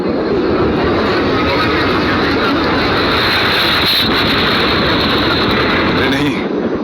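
Loud, continuous engine roar of a helicopter flying in a video game, a dense unbroken drone that fills the whole stretch with a brief dip near the end, with a voice speaking over it.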